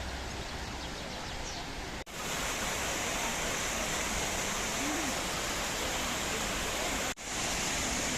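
A waterfall near a cave in Turkey roars as a steady, dense wash of falling water, loud and continuous throughout, broken only by two brief dropouts.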